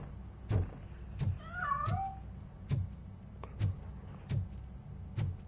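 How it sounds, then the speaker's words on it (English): A cat in the video game RoboCop: Rogue City lets out one wavering meow amid a steady series of sharp, evenly spaced thumps, close and fairly loud. "That cat must be hiding inside."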